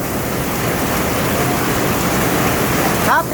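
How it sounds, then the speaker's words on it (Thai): Heavy rain pours steadily over a construction site where a concrete floor has just been poured during a storm, a loud, dense hiss throughout with a brief faint voice near the end. "ตอนนี้ฝนตกได้ ประมาณ หนึ่งชั่วโมงนะครับ"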